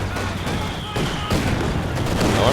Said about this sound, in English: These are DP, these are light machine guns they have